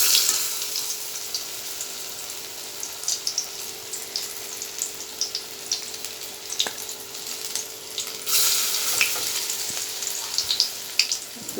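Tomatoes stuffed with small fish fry in a little hot oil, a steady soft sizzle with sporadic pops and spits, fairly close and alone.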